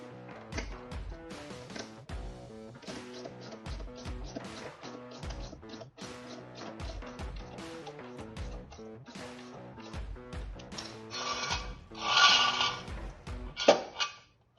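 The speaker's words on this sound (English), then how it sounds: "I'm going to use the socket, extension, and the speed handle to speed up the process." Speed handle with socket and extension lowering the spare tire on a Chrysler Town and Country, a steady run of rhythmic metallic clinks and ratcheting turns, close and continuous, with a louder grinding burst near the end.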